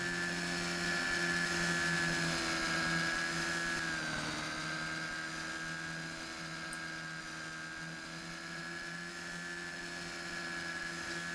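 Coaxial model helicopter with counter-rotating rotor blades in a flight simulator, a steady, continuous high-pitched whine with layered tonal hum, holding nearly constant throughout with a slight dip midway, no talking.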